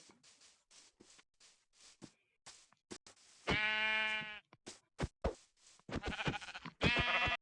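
Sheep bleat in the Minecraft video game, several short wavering baas close and clear amid scattered game clicks and thumps, with no talking.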